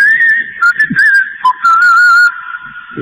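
A shrill whistled catcall rings out, several rising and falling whistle notes in quick succession, loud and close, with a brief low thump partway through.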